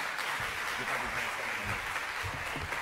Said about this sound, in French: On peut l'applaudir, hein, quand même.